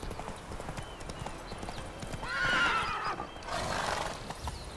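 A horse in The Witcher 3 video game clip-clops and whinnies, with steady hoofbeats under two louder bursts of neighing and agitated snorting near the water.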